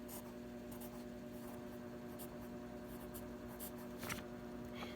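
A matrix being written on a board: a steady, soft scratching stroke that runs through the whole stretch over a faint constant hum, with one slightly sharper tap near the end and no talking.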